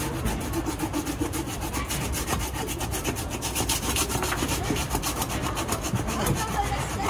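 Continuous rough sawing through a bluefin tuna's jaw bone, steady back-and-forth rasping strokes up close, with no talking over it.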